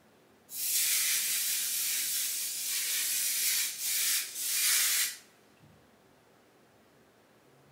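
A loud aerosol spray hisses for several seconds, pausing briefly twice near the end before stopping, then quiet room tone.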